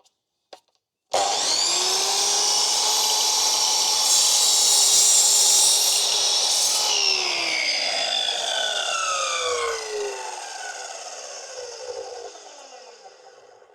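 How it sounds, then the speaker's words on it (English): Close by, a power drill drives screws into a wooden frame, whining loudly as it spins up with a rising pitch, then winding down with a falling pitch as the screw seats. "we'll initially just screw them together, and then we'll put a coach bolt through"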